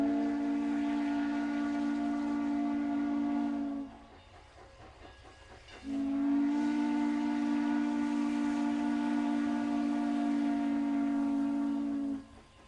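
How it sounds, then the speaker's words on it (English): Old steam train in Utah's Heber Valley sounds two long, loud harmonic whistle blasts, the first about four seconds and the second about six, separated by a short pause over a steady background hiss. "In Utah's Heber Valley, the lonesome whistle's a regular thing to hear."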